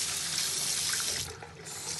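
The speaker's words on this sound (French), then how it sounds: "vous pouvez vous rincer le visage" Lukewarm tap water runs steadily into a sink for rinsing the face, a close, constant hiss and splash that dips slightly midway before carrying on, with no voices.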